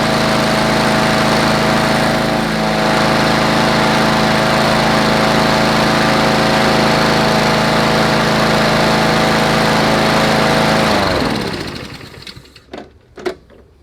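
A Honda engine on an MTD lawn mower runs with a freshly rebuilt carburetor at slightly lowered RPM, a loud, close, steady drone that suddenly cuts out and spins down, followed by a few quiet clunks.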